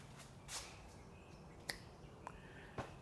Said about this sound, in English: I'm going to try to snap my fingers again